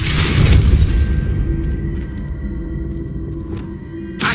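An Expulso spell goes off in Hogwarts Legacy gameplay as a loud, deep boom with a rumbling burst that fades into a ringing tail, followed by a second sharp burst near the end.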